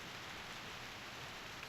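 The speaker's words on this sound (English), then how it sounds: "The rain is getting heavier." Steady rain falls in the video game Reverse 1999 at a campsite, an even, continuous hiss of drops with no voices over it.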